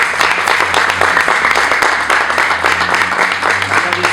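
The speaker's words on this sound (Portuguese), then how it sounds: "uma salva de palmas aos nossos formandos aí" Applause for graduating security guard trainees at their training course ceremony, a steady dense clapping from a crowd that fills the whole moment with a low hum underneath.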